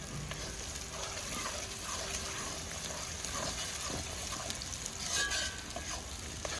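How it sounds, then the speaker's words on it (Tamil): Small whole shallots sizzle steadily in a hot pan for a Nalampatti-style mutton varuval, a constant bright frying hiss with faint stirring and bubbling throughout. "சின்ன வெங்காயம் நல்லா வதங்கி முழுசு முழுசாக தான் போட்டேன்"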